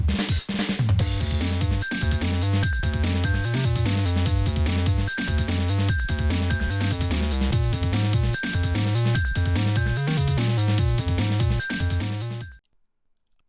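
Yu-Gi-Oh! Eternal Duelist Soul soundtrack on the Game Boy Advance, a busy, bouncy chiptune loop with punchy bass and steady percussion, playing continuously before cutting off abruptly near the end.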